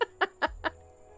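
A Placid Plastic Duck in Disney Dreamlight Valley gives four quick, bright quacks about a fifth of a second apart, fairly close and clear, followed by a low ambient hum.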